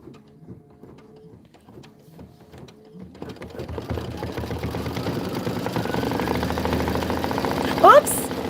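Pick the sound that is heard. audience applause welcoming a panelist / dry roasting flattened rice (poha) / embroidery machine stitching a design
embroidery machine stitching a design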